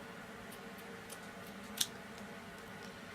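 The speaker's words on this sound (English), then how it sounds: "you're going to take the 2 that are both even here, and you're going to cut them like so" Scissors make one quick, faint snip through pointe shoe ribbon, a single sharp click against a quiet room.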